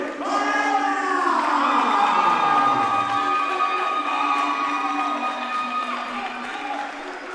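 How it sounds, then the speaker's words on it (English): A live fight event crowd at Ovation in Long Beach claps and cheers for a 10th Planet Riverside fighter, a loud sustained roar of applause and shouts filling the room, with an announcer's voice faintly mixed in. "Give it up for my man, Dominic Ayala."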